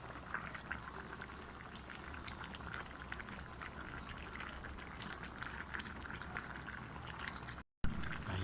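Bamboo shoots simmering in coconut milk, cooked with saluyot leaves: a dense, continuous bubbling boil, close and even, a soft liquid patter that briefly cuts out near the end, with no voices.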